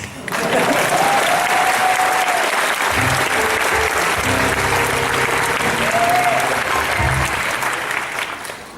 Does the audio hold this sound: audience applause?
yes